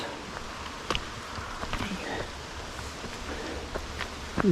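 Rain falls in the woods, a soft steady patter with scattered sharper drips and rustles, moderately quiet, with no talking.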